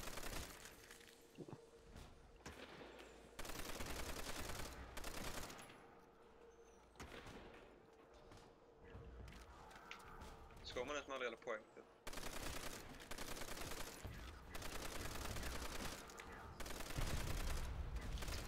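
Rapid bursts of gunfire in Call of Duty: World at War's Nacht der Untoten zombies mode, sustained automatic volleys with brief gaps, while someone speaks now and then.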